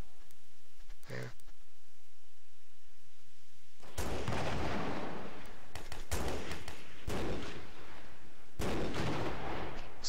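Gunfire in the military shooter Joint Operations: Typhoon Rising, loud heavy shots that land in separate booming bursts after a quiet opening, each ringing out and decaying before the next.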